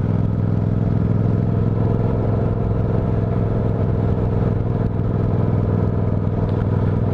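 A Honda CTX motorcycle rolls along a bumpy, twisty road with a steady low engine drone and wind rumble, close and even throughout, with no speech.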